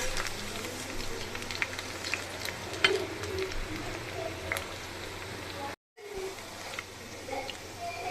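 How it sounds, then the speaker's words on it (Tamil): Cauliflower pieces deep-frying in hot oil on a low simmer, a steady dense sizzle and crackle running throughout with a few brief louder pops, cutting out for a moment before resuming. "பொரித்து எடுத்துக்கலாம்."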